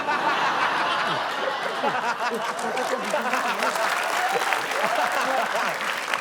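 An audience claps and laughs together, with a burst of applause mixed with chuckles and voices throughout.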